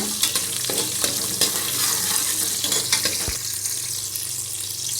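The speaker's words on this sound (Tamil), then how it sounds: "சின்ன வெங்காயம் போட்டுக்கோங்க. பூண்டு, நல்லா வதக்குங்க." Shallots and garlic sauté in oil in a pan for a Tamil bisibelabath sambar rice dish, giving a steady close sizzle and fry with occasional stirring clinks and scrapes, no talking.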